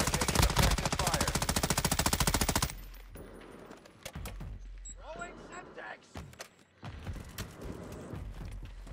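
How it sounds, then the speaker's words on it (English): Rapid automatic gunfire from a multiplayer shooter game hammers continuously for nearly three seconds, then scattered distant shots and game effects follow under quieter squad radio chatter. "You are taking effective fire."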